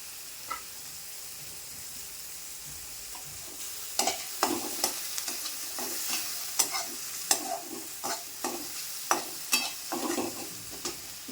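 Onion frying in oil in a pan, a soft continuous sizzle broken by repeated close scraping and stirring clatters in an irregular rhythm, fairly quiet overall.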